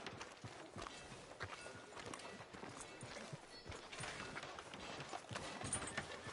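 Horse hooves clip-clop steadily in the Red Dead Redemption video game, a soft continuous patter of hoofbeats heard at moderate volume with faint background ambience.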